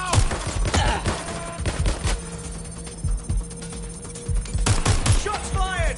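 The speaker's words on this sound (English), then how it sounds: "Shots fired." Gunfire in the Watch Dogs Legion game: loud, rapid bursts of shots in quick clusters, pausing briefly before more volleys crack out close by.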